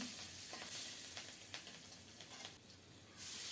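Cumin seeds tempering in a little hot oil, a faint continuous sizzle dotted with small crackling pops.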